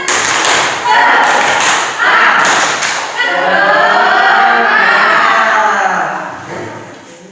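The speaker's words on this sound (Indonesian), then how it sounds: "Tepuk semangat." Students in a classroom perform the tepuk semangat spirit clap, several rounds of loud group claps mixed with chanting voices, then a longer stretch of shouting and cheering from the class.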